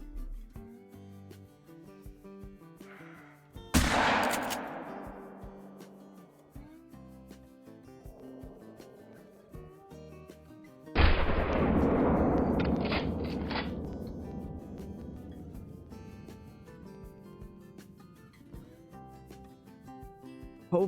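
A shotgun blast in a hunting video game, fired at a melanistic mule deer, booms loudly once with a long decaying tail, and a second heavy report follows several seconds later, each standing alone without talk.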